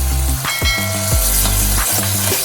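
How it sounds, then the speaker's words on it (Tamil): Loud, steady frying sizzle as tamarind water is added to a hot pan of cooked tomatoes, with a low hum and a few sharp clinks of a utensil on metal, no voices. "இப்போ வந்து நான் புளி தண்ணி ஆட் பண்ணிக்கிறேன்"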